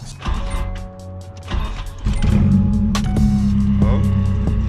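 A car engine cranks with a whirring starter for a couple of seconds, then catches and settles into a steady, loud idle right after a motor mount repair.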